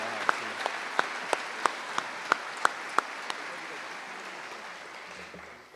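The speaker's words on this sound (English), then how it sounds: "could we give them all another great round of applause?" A crowd at an eighth-grade promotion ceremony claps steadily for several seconds, a dense, even patter of many hands that holds its level before tapering slightly at the end.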